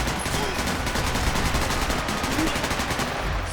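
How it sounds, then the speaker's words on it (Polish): Rapid bursts of gunfire from the video game Sniper Elite V2 Remastered, dense and continuous across the whole stretch, loud and close with a steady crackling texture. "Strzelam do nich, ale to nie działają."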